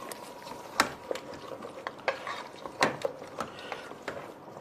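Mutton for balti meat being fried in a pan with brown onion paste and yogurt, a steady sizzle under repeated scraping and clinking of a spoon against the pan, close and moderately loud.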